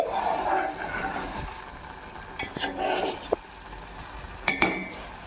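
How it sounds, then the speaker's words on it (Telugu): A utensil scrapes and stirs omelette masala curry in a pan with soft sizzling, punctuated by a few sharp metallic clinks near the end. "ఒకటండి, ఆమ్లెట్ కదలకుండా మనం కలుపుకోవాలి"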